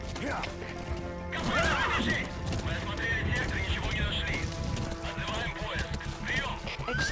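A horse neighs and whinnies loudly in the video game Metal Gear Solid V: The Phantom Pain, with clip-clopping hooves and game effects running underneath throughout.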